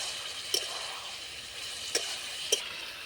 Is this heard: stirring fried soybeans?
yes